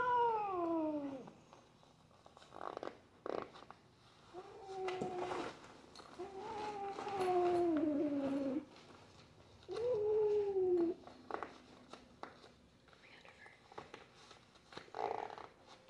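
A reluctant cat yowls with long, drawn-out complaining meows, four or five in a row, as it is zipped into a cat bag, with rustling and handling noises in between.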